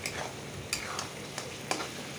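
Spice paste for mutton curry sautéing in a pan, a low steady sizzle with a few sharp scrapes of a spoon against the pan, no voices.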